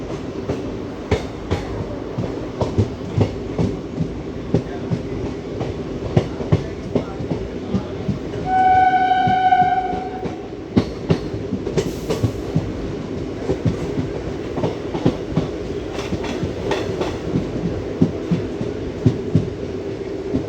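Rajkot to Somnath local passenger train running, heard from inside the coach: a steady low rumble with regular clickety-clack wheel beats over rail joints and a brief horn-like tonal blare midway.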